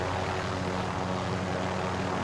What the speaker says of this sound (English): I'm ramming this helicopter.